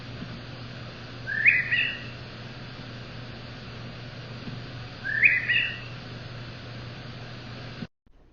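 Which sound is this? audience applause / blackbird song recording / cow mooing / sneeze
blackbird song recording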